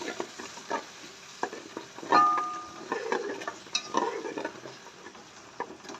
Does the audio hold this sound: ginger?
yes